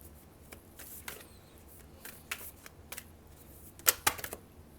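Tarot cards shuffled and drawn, faint soft riffling and scattered light flicks and taps, with a brighter cluster of snaps near the end.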